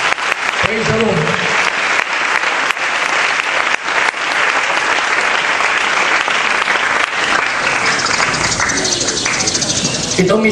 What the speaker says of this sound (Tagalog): Palakpak tayo mo sa Diyos, kapatid.